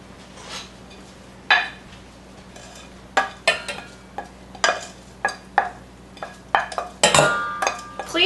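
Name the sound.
adding and stirring onions and sauteed garlic into pot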